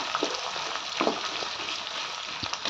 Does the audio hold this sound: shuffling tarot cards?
no